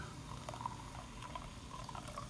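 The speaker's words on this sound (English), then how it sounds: "I will add a little bit of water to it" Water pours into a tray in an Orion smoker holding pork shoulder with sauce, a faint steady trickling and splashing with small bubbling gurgles, heard alone without talk.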